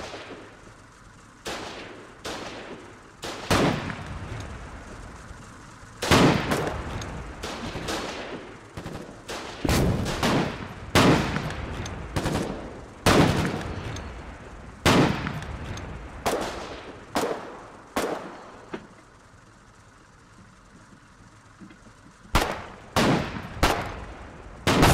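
Video game gunfire from a soldier shooting at enemies at an old bunker base: sharp, loud single shots and short bursts at irregular intervals, with brief quiet gaps between volleys.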